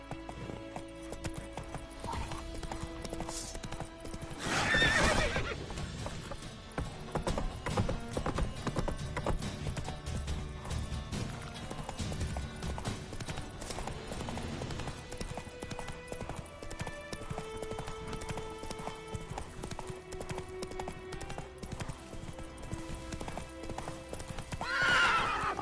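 Roach, Geralt's horse in The Witcher 3 on PS5, gallops steadily for a long stretch, with rhythmic hoofbeats over sustained game background tones and a couple of louder surges.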